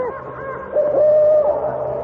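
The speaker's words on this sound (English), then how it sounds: "It is just an owl." An owl hoots in a radio drama, one drawn-out, steady hoot rising out of a low background murmur, fairly loud and close, with no talking.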